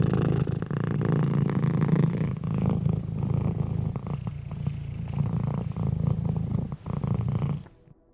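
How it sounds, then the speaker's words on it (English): A cat purrs steadily and loudly up close, a continuous low rumble that fades out at the very end. "Someone's making a purring cat."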